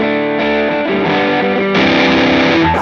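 An electric guitar played through a Benson drive pedal switched to distortion gives a saturated, sustained chord tone that changes chords several times, then a fuller, brighter burst near the end, with no voices.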